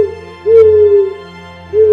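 An owl hoots in steady, drawn-out tones: one long hoot, a pause, then another beginning at the end, clear and close against a quiet background.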